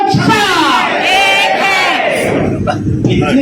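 Large crowd of pensioners at a rally shouting a slogan in unison, loud massed voices rising and falling together in a couple of surges, close and dense.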